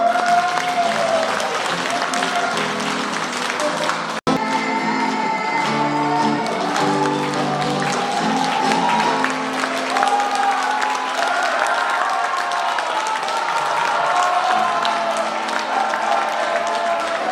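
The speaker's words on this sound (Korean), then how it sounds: "실력은 부족하더라도 예쁘게 봐주시고 박수 많이 보내주시기 바랍니다." Audience applause and cheering at a political constituency report event after a choir of party members performs, a sustained, fairly loud wash of clapping from the crowd with a brief dropout partway through.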